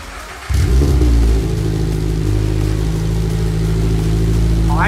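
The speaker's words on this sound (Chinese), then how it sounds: "现在是冷车状态，而且是新装上的排气。" A Subaru BRZ engine cold-starts through a newly fitted single-exit mid-tail exhaust, catching abruptly and settling into a loud, steady idle with a deep low drone, close by with no talking.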